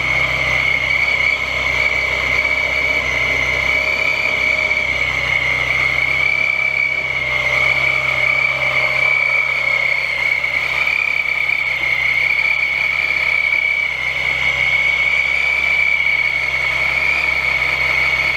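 A supercharged VR6 Golf GTI engine idles continuously, the supercharger holding a bright, steady whistle above a low, even engine hum for the whole stretch, close and unbroken.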